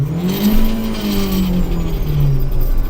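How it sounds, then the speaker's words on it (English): A car engine revs hard through first gear, the loud, close exhaust note sweeping upward, dipping and rising again as the motor is wound out, with a whirring tone layered above and no talking. "Revving the motor, revs all the way."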